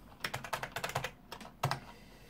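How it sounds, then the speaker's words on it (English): Typing on a computer keyboard during a Windows 98 SE setup: a quick burst of about a dozen close, crisp keystrokes in uneven rhythm, with a final firmer key press. "now I want to type a computer name"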